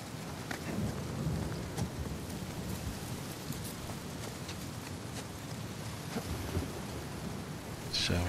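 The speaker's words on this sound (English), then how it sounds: "Bit of a storm brewing." Steady rain pours down with rolling thunder in an Uncharted 4 video game storm, a dense continuous hiss with deep rumbles and occasional sharper cracks, heard close and without speech.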